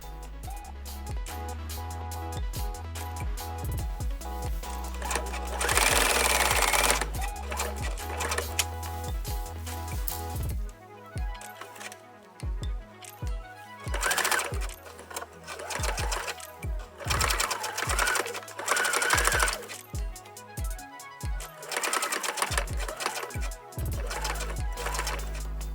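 A sewing machine stitches a denim skirt in quick runs of rapid mechanical stitching, with short pauses and bursts of loud whirring between them, close and clear with no talk.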